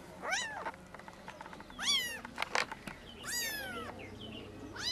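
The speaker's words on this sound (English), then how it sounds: "I hear a kitty." A cat meows repeatedly indoors in a mud-walled room in South Africa, three distinct rising-falling cries spaced a second or so apart, fairly close and clear with faint background noise.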